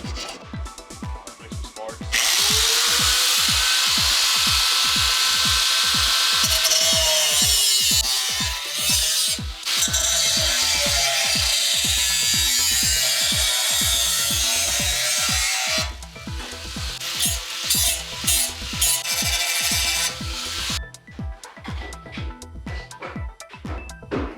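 A power tool grinds and buzzes loudly through long stretches of cutting, stopping and restarting, with a steady rhythmic mechanical pulse underneath.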